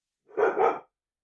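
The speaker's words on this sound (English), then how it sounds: "Sorry about the dog, guys." A young dog gives two quick, loud barks in close succession, close by indoors, with silence before and after.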